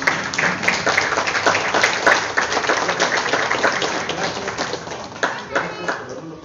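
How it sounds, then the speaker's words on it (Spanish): Audience applause at a Mexican school ceremony honoring a preschool supervisor: sustained crowd clapping filling the whole stretch, loud and dense, with scattered sharper claps standing out and a murmur of voices underneath. "Brindémosles un fuerte aplauso"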